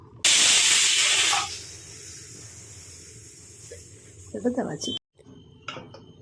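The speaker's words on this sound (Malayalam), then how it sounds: "ഗ്യാസ് വന്നു തുടങ്ങി ഞാൻ വിസിലിടുകയാണ് ഒരു വിസിലിന് ശേഷം ഫ്ലെയിം ഓഫ് ചെയ്യും" A loud burst of steam hisses sharply from a pressure cooker whistle while cooking sambar, for about a second, then fades to a low hum with clattering pots and a faint voice.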